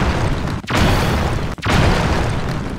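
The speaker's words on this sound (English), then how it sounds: "There's so much kabooms." Bomb flowers exploding in the game Tears of the Kingdom, a loud, dense rumbling boom that fills the clip, broken by two brief dips before the blast noise resumes.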